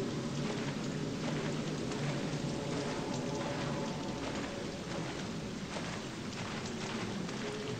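Steady heavy rain in the dark environment of the video game Fatal Frame: Maiden of Black Water, a constant dense hiss with low rumbling underneath, continuous and even throughout with no voices.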